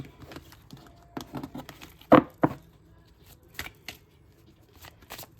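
A small deck of about twelve tarot cards is shuffled by hand during a candlelit reading, giving soft, irregular papery riffles and taps with a couple of sharper snaps, close and quiet with no talk.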